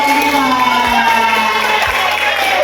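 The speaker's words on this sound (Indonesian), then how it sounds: "kita kasih aplaus semua kelompok 5" A classroom group of students cheers for their fifth group, a loud, steady crowd roar with whoops that holds for the whole stretch.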